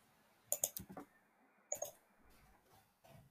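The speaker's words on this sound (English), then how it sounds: "if I click here and I click on share" Computer mouse clicks during a software demonstration, a quick cluster of four or five sharp clicks followed by a couple more a second later, close and fairly loud over a quiet background.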